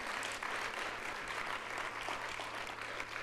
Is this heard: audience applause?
yes